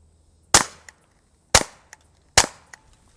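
Three semi-automatic shots from a Taurus TX22 .22 pistol with Armscor ammunition, each a sharp, fairly subdued crack with a brief tail, evenly spaced about a second apart, with no talk.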